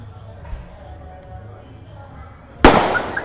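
Firecrackers burst loudly at a wedding, a sudden sharp crackling explosion that follows a stretch of quiet background chatter.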